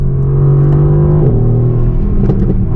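A 2018 Mercedes-AMG GT R, heard from inside while driving, pulls hard with a loud, close engine drone that climbs in pitch, then shifts and picks up again, with no talking.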